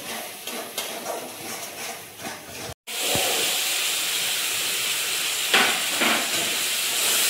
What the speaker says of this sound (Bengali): মশলাটির সাথে আবারও ভালো করে কষিয়ে নেব